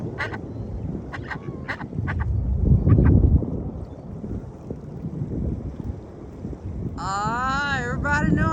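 Ducks quacking at a windy lake while waiting for bread, with several nasal quacks scattered through the clip over strong wind rumble and someone talking.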